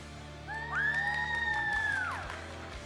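A crowd at a FIRST Tech Challenge robotics competition screams and cheers. One loud high whoop rises and holds above the steady roar of the arena for about two seconds, then fades back into the crowd noise.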